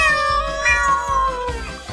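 A robot dog toy gives an electronic imitation of a cat's meow, one drawn-out, loud, close mewing call with a wavering, falling tone and no voices over it.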